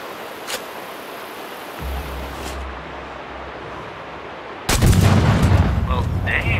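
Explosive sniper rounds firing in the video game Sniper Ghost Warrior 3, a muffled boom early on, then a loud blast near the end that rolls into a sustained rumble of gunfire.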